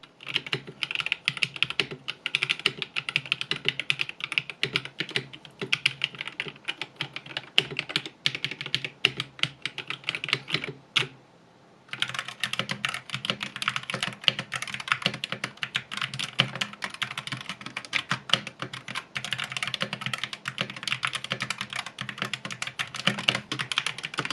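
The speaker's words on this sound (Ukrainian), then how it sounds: "Ось тест звуку набору." Rapid, steady typing on a Hator Rockfall 2 Mecha mechanical keyboard fitted with rubber O-rings, dense keystrokes heard up close and alone, with a brief pause near the middle.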